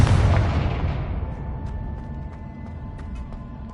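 The Confringo explosive spell blasts in Hogwarts Legacy, a single loud booming explosion that starts at full force and then rumbles and fades over several seconds, with scattered small crackles in the tail.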